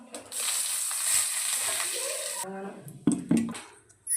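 Mustard seeds and curry leaves sizzle and crackle loudly in hot oil for a chutney tempering, with a bright frying hiss that stops sharply. A voice talks briefly afterward over clattering stirring.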